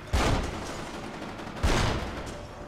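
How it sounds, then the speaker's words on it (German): Two heavy gunshot blasts in the video game Kane & Lynch: Dead Men, about a second and a half apart, each with a booming echoing tail, no speech. "Ich schieße auf mein Ziel."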